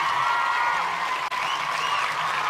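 An audience at a junior high school quiz competition applauds the contestants in a steady, dense wash of clapping that holds evenly throughout.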